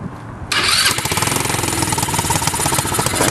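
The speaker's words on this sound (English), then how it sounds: "I'll get the truck idling anyway." A GY6 150cc mini monster truck engine kicks in after a quiet moment and settles into a loud, close, rapidly pulsing idle, a steady buzzy chug that holds to the end.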